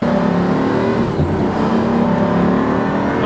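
Pagani Huayra hypercar engine roaring loud and close while driving, a continuous strained drone with a brief dip midway that fits a single-clutch gear change.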